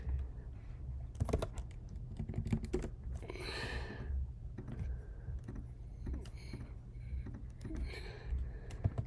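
Keys clack at close range on a computer keyboard while Scratch code for a Super Mario game is written, short bursts of typing with brief pauses and a softer rustle in between; no speech.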